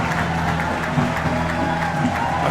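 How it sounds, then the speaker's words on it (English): Crowd noise at a Reading Fightin Phils baseball game rises in a steady wash of cheering and clapping that fills the space at moderate distance. "the crowd's getting into it here"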